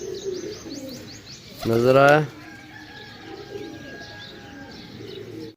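Pigeons for sale at a market in Sarai Alamgir, Jhelum, Pakistan, with soft cooing and chirps going on throughout, broken by a brief loud burst in the middle, while someone talks over the birds.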